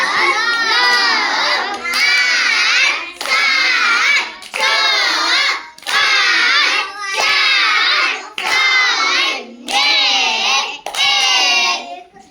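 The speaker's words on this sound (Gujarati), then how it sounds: "ઉતરતા ક્રમમાં દસ તાળી પાડો" A classroom of children clap hands together in a counting game, nine bursts of rapid rhythmic clapping with short pauses between, loud and close, with excited young voices mixed in.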